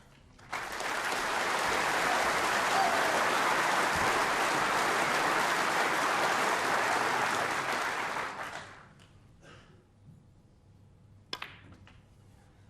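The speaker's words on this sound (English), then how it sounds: "Wait for the applause for the century." A snooker crowd at the Crucible applauds a century break, with sustained, dense clapping for about eight seconds before it dies away into quiet, followed by a couple of faint knocks.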